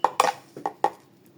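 A spoon stirs sugar into tea in a cup, giving about five sharp, close clinks against the cup in quick succession, with no voices.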